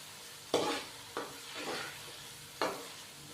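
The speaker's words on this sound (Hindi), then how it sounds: "साबुत खड़े मसालों को हल्का सा हम फ्राई करेंगे।" Whole spices, cinnamon and black peppercorns, fry lightly in oil in a pan for aloo and green chana pulao, with a soft sizzle and three or four distinct stirring scrapes.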